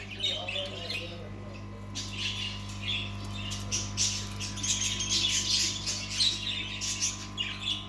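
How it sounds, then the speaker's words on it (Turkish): A baby parrot squawks inside a pet shop, with repeated harsh calls and chirps building through the clip over background shop noise and other bird sounds. "Şurada da yavru bir papağan var."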